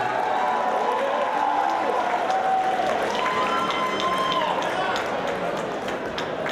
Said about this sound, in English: Let's give a round of applause for both of these fighters.